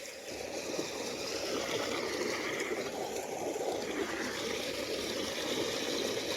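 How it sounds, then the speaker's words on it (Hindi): Water from a motor-driven pump pouring steadily into a flooded rice paddy field, a continuous rushing gush that stays even and fairly loud throughout with no voices. "कोई बारिश नहीं हो रही है तो मोटर चालू किया हुआ है देखो कितना अंदर है पानी"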